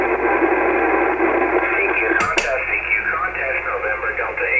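A Yaesu FT-757GX ham radio receives a signal, giving a steady band of hiss and tonal noise across the whole clip, broken by two sharp clicks near the middle as the antenna switches between two radios.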